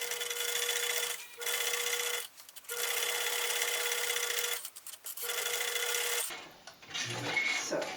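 A sewing machine stitches a cloth traveler's notebook in steady whirring runs, stopping briefly several times, then quieter handling sounds at the end.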